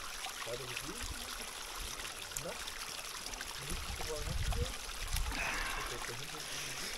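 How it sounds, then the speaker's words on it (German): Clean mountain water flows in an Alpine stream with a steady rushing, trickling wash that grows a bit louder midway, while someone talks over it nearby. "Hier fließt ganz viel sauberes Wasser."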